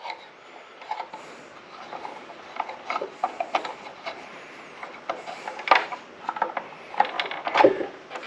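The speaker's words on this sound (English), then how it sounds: "tighten up this bolt. This is right-handed threads." A bolt being tightened on a compound miter saw blade, heard as a series of small clicking, ratcheting mechanical taps and knocks, irregular and close, with quiet stretches between bursts.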